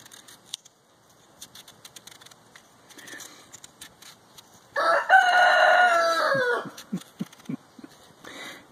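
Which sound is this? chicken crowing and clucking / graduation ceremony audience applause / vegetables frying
chicken crowing and clucking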